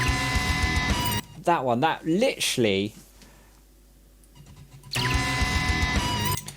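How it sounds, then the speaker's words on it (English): Bursts of dense, distorted electric guitar with a shrill squeal, broken up by a stretch of someone talking before the loud guitar returns. "Just listen to this guitar scream."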